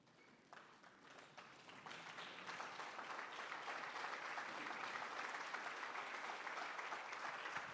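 Audience applause at a graduate career summit grows from scattered claps into a full, sustained round that keeps building and stays loud to the end.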